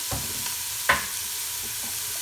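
A wooden spoon stirs the harira base of oil and ingredients frying in a pan, with a steady soft sizzle underneath a few faint scrapes and one brief knock.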